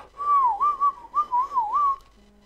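A person whistles a short wavering melody, several bright pitched phrases with slides and dips over about two seconds, close and clear with no talking.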